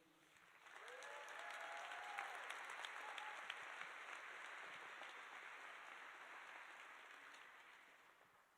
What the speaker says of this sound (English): One more huge round of applause for Angie, please.